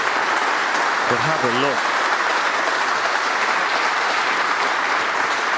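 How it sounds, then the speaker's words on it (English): A snooker audience in the arena gives a warm, sustained round of applause that fills the hall as a steady wash of clapping, while a commentator speaks briefly over it. "Selby stepping back from the table because there's a warm round of applause"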